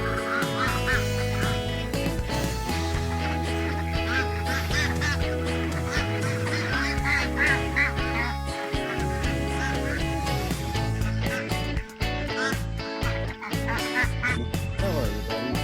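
A flock of farm ducks quacks and honks continuously and densely up close, their calls overlapping in a loud, busy chorus with no pause.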